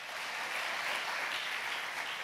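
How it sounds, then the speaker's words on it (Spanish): A church congregation claps together in steady, fairly faint applause, a dense even patter of many hands lasting a couple of seconds with no voices over it. "Dele fuerte ese aplauso al Señor."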